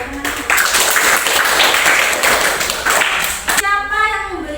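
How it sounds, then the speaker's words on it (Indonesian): Classroom students clap their hands together in a dense, steady burst of applause lasting a few seconds, then stop abruptly as a voice continues speaking. "Tepuk tangan dong buat teman-teman."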